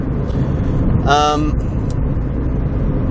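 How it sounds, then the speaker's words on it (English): Steady low tyre drone from the road fills a small car's interior, with a short tonal horn-like sound rising briefly early on. "you can hear that the tires are droning quite badly"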